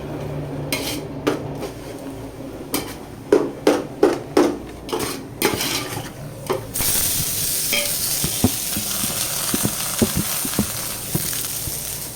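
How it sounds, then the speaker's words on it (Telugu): Onions sizzle in hot oil for a bachelor-style biryani cooked in Mumbai, with a run of sharp metal spoon clanks and scrapes against the pot followed by a steady loud frying hiss and occasional light knocks. "ఉల్లిపాయలు అంటే తెల్లగడ్డలు తర్వాత ఉల్లిగడ్డలు వేసుకున్నాం"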